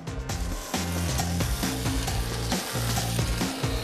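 Sliced sausage sears in a hot pan, a loud close sizzle layered over steady background music, with no one speaking.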